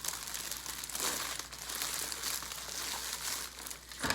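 Cellophane crinkles and rustles close by as back wires are tied around its front while making a bow, a quiet, continuous crackling with small bursts and a sharper crunch at the end.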